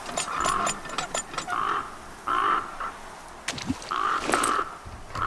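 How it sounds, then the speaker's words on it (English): Crows cawing in the survival video game The Flame in the Flood, several harsh repeated caws in clusters, fairly loud and close, with no talk. "the crows crowing actually"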